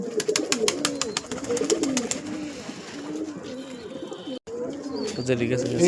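Pigeons at a home loft coo in repeated soft, throaty bubbling calls, several birds close by, with sharp clicks and bits of speech mixed in.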